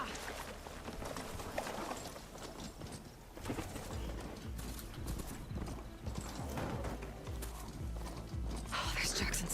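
Horse galloping in the video game Horizon Forbidden West, steady rapid clip-clop hoofbeats with an occasional whinny, joined by game sound and someone talking over it.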